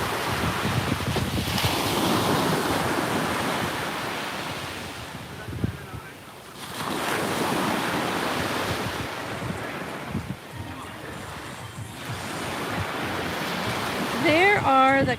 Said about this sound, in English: We should hear ocean waves.